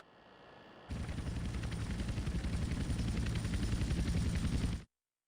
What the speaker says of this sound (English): So then, obviously, the next step is to land the chopper.